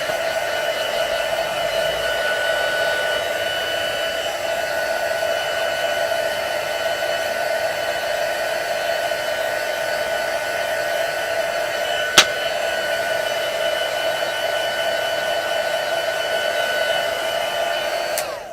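A hair dryer blows for a long stretch, a loud, close, steady whine and airy rush with no pauses and a single sharp click partway through.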